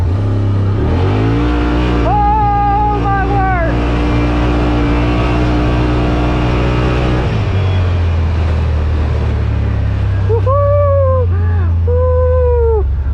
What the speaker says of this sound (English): sport mode, 4-wheel drive. I'm only going to gun it about half throttle.